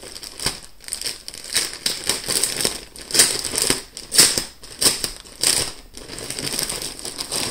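Plastic packaging around baby clothes crinkles and crackles in irregular, close bursts of rustling. No one speaks.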